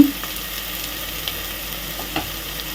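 Steady frying sizzle in a pan while cooking chicken curry, a continuous soft crackle with occasional stirring scrapes, heard alone at moderate loudness.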